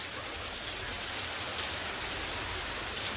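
Steady, dense rainfall hisses evenly throughout, with no voices.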